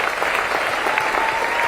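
A crowd applauds steadily at a political rally in Pennsylvania, a dense, even wash of clapping with no pauses or peaks throughout.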